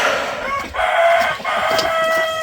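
Backyard hens out in the winter sun cluck and call loudly close by, a steady chorus of clucking and drawn-out cackles with brief dips between calls.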